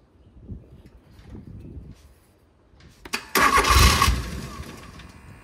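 A Genie GS 3268RT rough-terrain scissor lift engine cranks with a few sputters, then catches and roars up loudly before settling back toward an idle, preceded by quiet mechanical shuffling.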